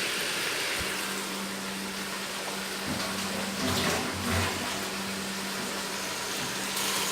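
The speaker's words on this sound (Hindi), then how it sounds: "मैं इतना पानी डाल रही हूँ।" Water poured into a karahi pot of chicken being cooked, a steady splashing and trickling stream heard alone at moderate level, with a low background hum.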